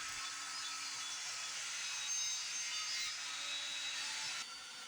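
A saw rips steadily along a board, a continuous close hissing whine of blade through wood that holds level for a few seconds before easing off at the end, with no voices.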